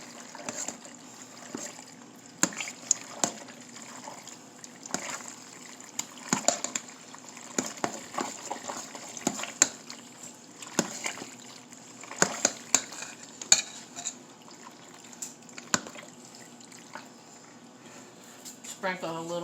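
Cooked penne pasta being stirred with sauce in a pot: a long run of irregular wet squelches and sloshes with occasional clinks of the utensil against the metal, close by, over a steady background hiss.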